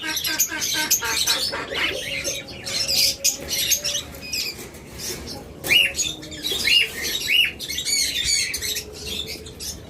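Pure albino budgerigars in a breeding aviary keep up a dense, loud chatter of rapid chirps and squawks, with wing flutters mixed in and a voice faintly underneath.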